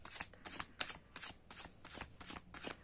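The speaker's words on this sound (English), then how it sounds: "I'm just giving the cards of final shuffle." Oracle cards being shuffled in a tarot-style love reading, a quick rhythmic run of about seven crisp riffling bursts, close and fairly quiet, with no talking.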